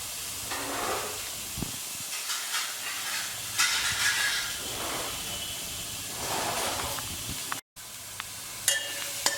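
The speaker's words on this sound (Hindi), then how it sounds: "ये सबसे पहले उन्होंने डाले प्याज, सिम पे कर दिया इसको मैंने।" Onions sizzling on low heat in a pan for a Banjara-style chicken curry, a steady hiss with brief crackling bursts and occasional clinks, moderately close with no talk.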